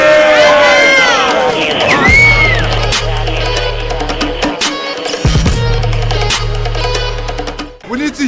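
A rap battle crowd cheers and shouts to vote for a winner, with loud whoops and overlapping voices rising in bursts close by.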